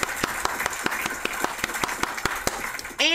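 A small group applauds with sharp, irregular claps at a birthday celebration, moderately close, ending in a brief rustle and whoosh.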